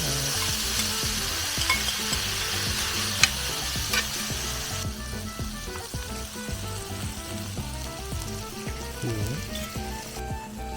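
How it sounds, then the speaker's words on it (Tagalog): Sisig sizzling loudly on a hot plate at a restaurant in Camiguin, a steady close crackle and hiss of frying with occasional scraping and stirring clinks, no speech over it. "ang paborito kong sizzling sisig"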